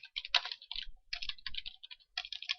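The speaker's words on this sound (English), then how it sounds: "as soon as we are done typing them in" Someone typing on a computer keyboard while writing a Unity player script, quick clusters of crisp key clicks with short pauses between runs, close and clear with no talking.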